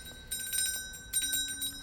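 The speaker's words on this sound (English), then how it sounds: "Ring the bell." A bell in an Xbox Series S detective game rings with bright, sustained metallic tones, two clear strikes with a short gap, moderately loud over a faint background.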